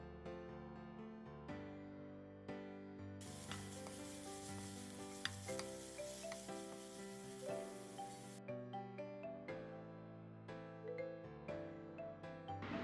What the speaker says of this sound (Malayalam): ചൂടായ ഒരു പാത്രത്തിലേക്ക് നേരത്തെ ചിക്കൻ പൊരിച്ച് മാറ്റി വെച്ച വെളിച്ചെണ്ണയിലേക്ക് സവാള ഇട്ട്